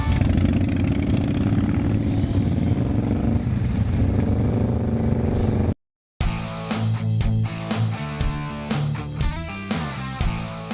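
Motorcycle engines rumble and rev on a charity ride, first a loud steady drone, then after a break several bikes throttle up and pull away with rising revs.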